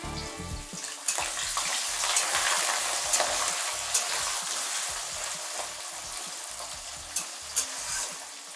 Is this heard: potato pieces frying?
yes